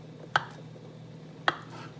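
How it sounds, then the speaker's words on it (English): Two sharp knife strikes through soft tofu on a cutting board, about a second apart, against a quiet background with a faint steady hum. "Just chopping up the tofu."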